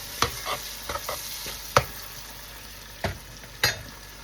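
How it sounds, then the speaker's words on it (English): Curry is stirred in a frying pan: a soft sizzle runs underneath several scraping strokes of the spoon, irregular and close, with no voice over it. "That's my curry in. I'm just going to stir again."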